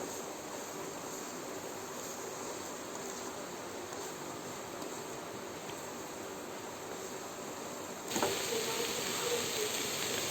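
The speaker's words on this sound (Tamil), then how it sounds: "இந்த வாழைப்பூவும் வெங்காயமும் கொஞ்சம் சாஃப்டாக ஆகிற வரைக்கும் நம்ம வதக்கினா போதும்." Banana flower and onions soften in a pan, giving a steady low sizzle and hiss that stays even throughout and brightens slightly toward the end, with no talk over it.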